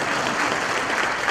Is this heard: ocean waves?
no